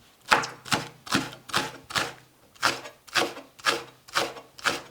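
A knife chops radish on a board for nabak kimchi, ten crisp, evenly spaced strokes landing about twice a second. The chopping is close and clear, with no talking.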